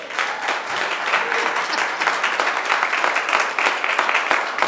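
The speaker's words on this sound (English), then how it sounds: "Can I get a clap for that one?" Audience applause at a business talk, a steady wash of many hands clapping that fills the whole stretch at even loudness, with no voices over it.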